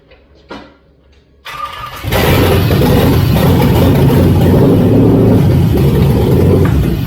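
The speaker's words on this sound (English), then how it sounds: "Go ahead, crank her over." An LS-swapped engine cranks briefly and then catches, settling into a loud, steady running roar that holds for several seconds after a short quiet lead-in.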